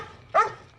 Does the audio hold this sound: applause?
no